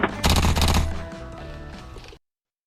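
Airsoft M16A1 rifle firing a rapid volley of shots, loud and close, with the burst fading over about two seconds into a softer mechanical tail.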